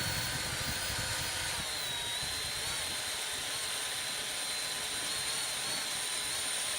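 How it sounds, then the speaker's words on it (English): A DeWalt drill runs continuously with a steady high whine and a constant hum, in a glassblowing studio with no voices over it. "Love my DeWalt drill."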